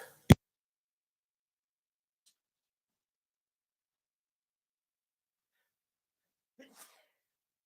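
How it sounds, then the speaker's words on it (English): A single sharp sneeze bursts out near the start, loud and close, followed by long silence and a faint breathy sound near the end. "Sorry, trying to avoid sneezing."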